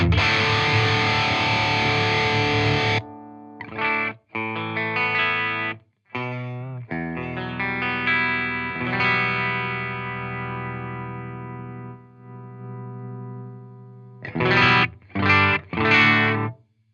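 An electric guitar plays through an ENGL Ironball SE amp on its 1-watt setting, starting with a dense strummed chord, then ringing arpeggiated notes and sustained chords, and ending with three short stabs; there is no talking.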